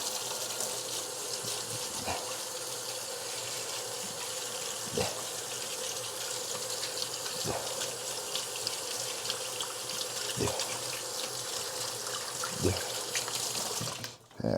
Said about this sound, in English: I'm going to just rinse my hands because I just touched meat. Gotta just use a little dish soap to wash my hands.